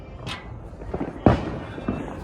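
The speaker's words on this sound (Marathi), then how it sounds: "काहीच तुम्हाला फटाक्यांचा आवाज येत असेल" Firecrackers and fireworks burst at River Gate resort on New Year's Eve: a faint whistling rise, then several dull pops and one sharp, loud crack mid-way over a steady background din.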